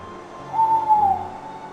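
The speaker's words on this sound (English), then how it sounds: "Was that an owl?" A single owl hoots in a Minecraft roleplay set underground, a fairly close, clear call lasting under a second that rises out of a quiet, low ambient hum, with no talking.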